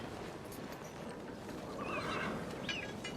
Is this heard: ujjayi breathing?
no